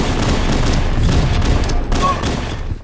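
Grenade blasts and crackling gunfire from a Halo multiplayer match rumble loudly and continuously, a dense chaotic wash of booms and shots with no clear pauses.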